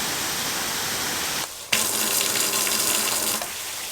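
A MIRA dual mixer shower head sprays water in a steady broadband hiss that drops out briefly, then returns with a harder, brighter gush when the spray pattern changes, close and loud with no talking.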